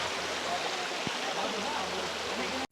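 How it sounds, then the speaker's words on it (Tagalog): Water from Gayas Waterfalls in New Cortez, New Corella, Davao del Norte rushes in a constant, loud, broadband wash, steady throughout and ending with an abrupt cut. "Grabe ang tubig oh, nagagas-agas lang kay flowing ding tubig diri."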